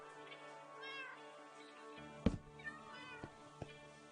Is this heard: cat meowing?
yes